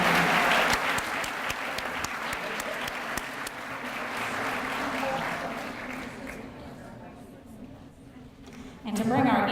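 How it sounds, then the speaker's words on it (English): A crowd at the Champions for Children 2014 evening event gives a big round of applause, loud and dense at first, then gradually dying away until a voice picks up at the very end. "Let's let's just do one more big round of applause."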